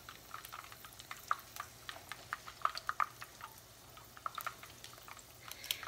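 Shrimp egg rolls fry in a pan to crisp their wrappers, a faint, soft bubbling sizzle with scattered small pops and crackles, heard close and steady with no talk.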